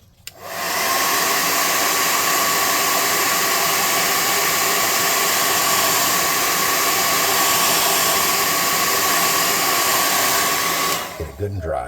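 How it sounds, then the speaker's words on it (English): An air gun blows a continuous, loud, hissing rush of air to dry a freshly made neon sign. The blast holds steady for about ten seconds, then cuts off. "hit it with the air gun."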